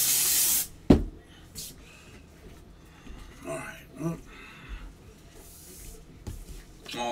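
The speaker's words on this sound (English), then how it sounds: "Spray the air that stinks so much" A short, loud hiss of an aerosol air freshener spray bursts at the start, then quieter rustling and faint sounds follow.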